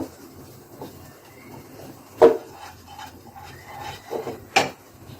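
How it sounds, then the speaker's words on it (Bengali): Shrimp pulao spices with turmeric being stirred and fried in a pan, giving soft scraping and rubbing of a spoon against the pan with a couple of sharper knocks, close and fairly quiet, no talk. "সবগুলো উপকরণ আমি ভালোভাবে কষিয়ে নেব"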